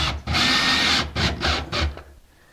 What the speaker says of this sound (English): I'm going to line this drywall up to the line, and then run my screw in.